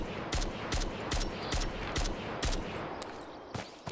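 A player's weapon fires tracer rounds in Road to Vostok, a steady volley of about ten sharp, loud, close shots at a brisk, regular rhythm. The shots ring out alone with no voices.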